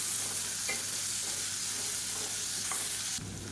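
Boiled potatoes sizzle steadily as they fry in a pan for a side dish, with a constant crackling hiss up close and a sudden scrape near the end as they are stirred.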